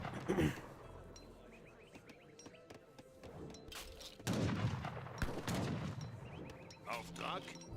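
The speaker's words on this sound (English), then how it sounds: "Next pair of heavy cannon being put on the field." Heavy cannon and musket gunfire from the battle game Age of Empires 3, a scatter of booms and sharp cracks, some layered into rolling volleys, with a brief burst after the midpoint over faint background game noise.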